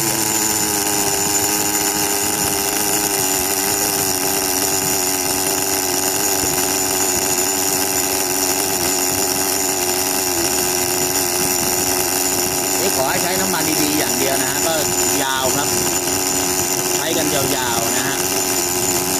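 An oil-cooled Tamiya model engine runs steadily and loudly, a continuous buzzing drone that holds even throughout with little change in pitch.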